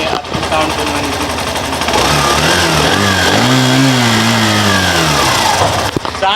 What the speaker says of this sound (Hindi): तो पहले हम सुन लेते हैं ग्लैमर की एक्स टेक का साउंड